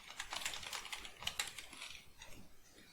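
Rapid typing on a computer keyboard, with a quick run of close, crisp key clicks that slows and thins toward the end; no voices.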